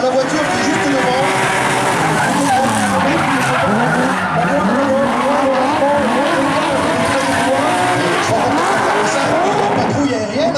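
Several rally cars drift in tight synchronized formation at a Wallonie drift show, engines revving hard with sustained tire squeal and screeching, loud and continuous throughout, with a commentator's voice faintly audible beneath.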